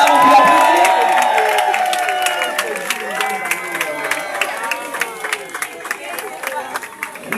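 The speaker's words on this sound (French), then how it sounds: "Voilà, on peut applaudir." An audience applauds at the end of an official ceremony. Voices and crowd murmur come first, then a run of scattered clapping builds and continues to the end.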